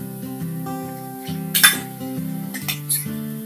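A metal spoon clinks against a pan as spice paste is stirred into softening onions for Maharashtrian pithala: a few sharp, brief clinks over a steady tonal musical background.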